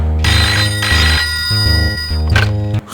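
A telephone ringtone plays loud and close, a repeating melodic pattern of bright electronic tones in regular bursts with brief gaps between them.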